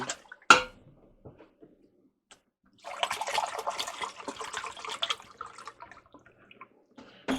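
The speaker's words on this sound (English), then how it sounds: "we're going to add 10 cups of water in here." Water pours from a gallon jug into a cooking pot for sinigang, a steady splashing gush of a few seconds after a sharp knock and faint drips.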